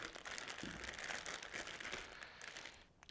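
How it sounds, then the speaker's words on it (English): A plastic bag crinkles and rustles continuously at close range, with brisk crackling handling sounds and no talking. "open your bag nice and carefully"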